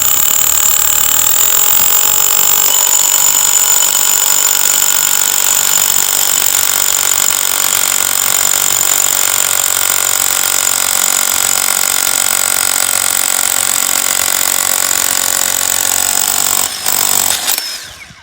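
A Bosch GBH 18V-34 CF cordless rotary hammer drills steadily with a large bit, a loud continuous hammering whine held for about seventeen seconds before it stops abruptly.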